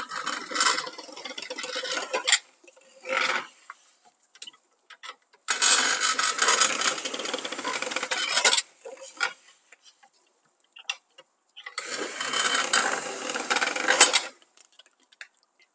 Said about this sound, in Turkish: Bu şekilde ince ince döner gibi kesmeye devam edeceğim bütün etlerimi şimdi.